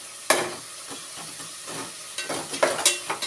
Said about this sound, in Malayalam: ഇതെല്ലാം കൂടെ കൂടെ നല്ലപോലെ അതിനകത്തുനിന്ന് ഫ്രൈ ആവട്ടെ